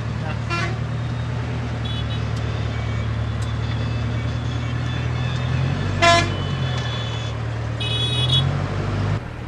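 Car and truck horns toot repeatedly in busy road traffic at the India–Nepal border crossing, with sharp honks near 0.5, 6 and 8 seconds over a constant engine rumble and background voices.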